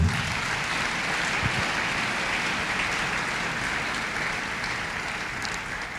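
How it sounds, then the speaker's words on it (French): Congregation in a church service applauding together, a steady dense wash of clapping that holds for several seconds at even loudness. "Acclamons la parole."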